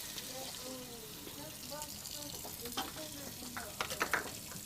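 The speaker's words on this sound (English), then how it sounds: "I'm gonna throw in my peppers first." Peppers frying in olive oil give a steady, close sizzle and crackle with brief stirring noises, while a faint voice is heard behind it.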